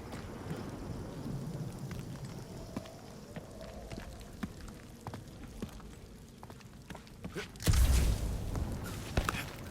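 Rainstorm in the video game Marvel's Guardians of the Galaxy: a soft, steady rain hiss with scattered clicks and taps, then a sudden louder rumbling surge near the end like a thunderclap or gust, fading back to rain.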